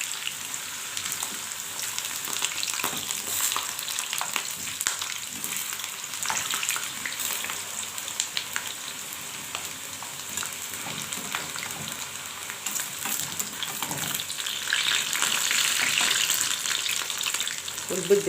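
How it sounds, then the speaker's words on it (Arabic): Potatoes fry steadily in a pan of hot oil with a continuous broadband sizzle, and scraping stir-and-turn sounds come and go throughout, swelling louder toward the end; no voices. "نقلب بقى البطاطس بتاعتنا، لازم تحمر قوي يا جماعه"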